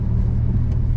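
A Nissan 350Z runs at the Anglesey sprint track, its engine giving a steady, loud, low drone that holds constant throughout with no speech.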